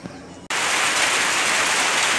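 Heavy rain abruptly starts pouring down, a loud, dense, even hiss of drops hitting surfaces that cuts in after a brief quiet moment and continues steadily up close.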